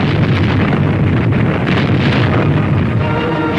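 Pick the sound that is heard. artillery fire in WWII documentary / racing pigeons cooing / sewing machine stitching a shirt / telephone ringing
artillery fire in WWII documentary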